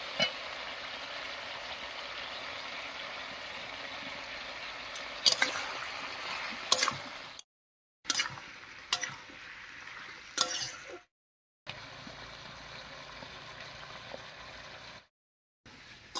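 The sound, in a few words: spice paste frying with bottle gourd and koi fish curry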